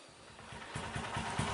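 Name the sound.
motorcycle engine running after 200cc bore-up block swap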